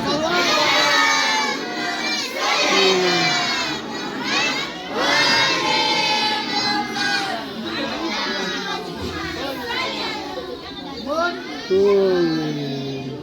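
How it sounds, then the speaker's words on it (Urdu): A large crowd at a religious gathering for 13 Rajab chants salawat loudly together, with a dense wall of many voices rising and falling in long, swelling unison phrases and the occasional higher shout standing out above the mass. "اس کے بعد بہت بلندتر صلوات۔"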